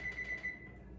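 A kitchen timer being set for snickerdoodle baking beeps in a short run of thin, high electronic tones, fairly quiet against a faint room hum, with no talking.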